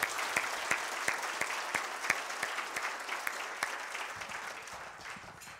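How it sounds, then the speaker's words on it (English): Room-wide applause fills a Chamber of Commerce luncheon hall as guests honor a man standing up. A few sharp, distinct claps stand out at the front, and the clapping gradually fades near the end. "everybody give him a round of applause"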